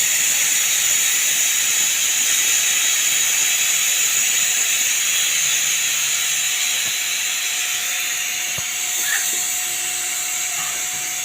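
Steady, loud hiss of steam venting from a pressure cooker after four whistles while cooking mutton, a continuous high rush lasting throughout with a few faint clicks near the end.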